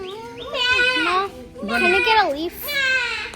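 Three long, quavering bleats follow one another with short pauses between them, loud and close, each rising and falling in pitch like a goat's call.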